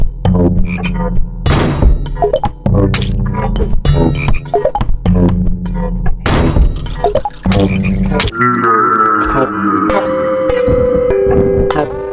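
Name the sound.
Frog Lord croaking in the video game House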